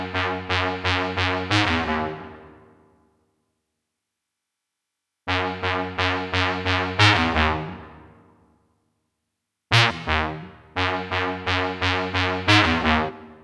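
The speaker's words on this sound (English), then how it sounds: "we're going to be recording the horn sound again, but only the last notes of it" A horn-like synth bass line recorded on a Boss RC505 mk2 looper plays in repeated phrases of short punchy notes, each burst decaying into silence before the next phrase starts.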